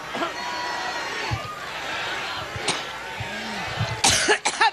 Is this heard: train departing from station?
no